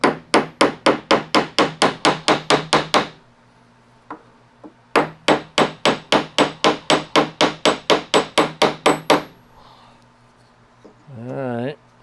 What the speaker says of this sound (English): I may need to get the little hammer out here.